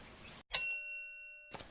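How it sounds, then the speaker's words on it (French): A bright, clean app notification ding rings out once and decays smoothly, a single chime standing alone between brief background noise. "vous serez prévenu par une petite notification discrète."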